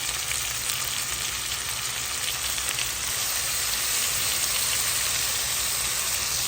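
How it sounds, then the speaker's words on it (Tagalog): Chicken and tomato sautéing in fish sauce with garlic, onion and ginger, a steady, fairly loud sizzle that crackles evenly and continuously throughout, with no talk. "Ginigisa ko na po siya sa patis"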